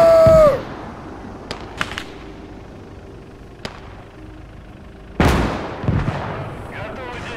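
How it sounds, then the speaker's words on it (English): Artillery strike explosions in the WWII video game Gates of Hell: Ostfront, with a sharp blast at the start, a few faint distant cracks, then a heavy booming impact with a rumbling tail. "Воздушная тревога! Artillery strike!"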